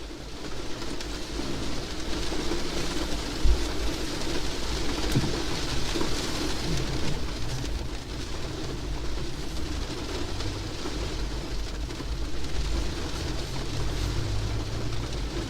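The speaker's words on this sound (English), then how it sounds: "I could even put on some of those rain sounds" Background rain ambience plays as a steady, even hiss of falling rain with a faint low hum underneath, continuous and unbroken throughout with no voices.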